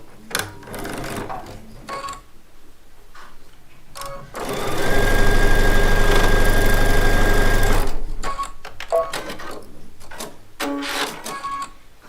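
A sewing machine runs in one continuous burst of rapid stitching, chain piecing charm-pack quilt blocks, framed by soft handling clicks and rustles of fabric before and after the steady whir.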